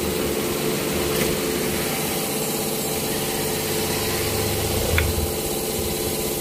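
A Honda Beat scooter engine runs at a steady idle, a continuous low rumble with a faint rattle, close and alone with no talk.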